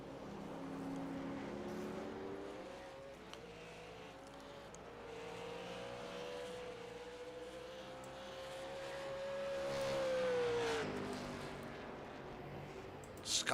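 Race cars lap a racing circuit around a hairpin and kink, engines rising and falling in pitch as they pass at a distance, one swelling louder before fading.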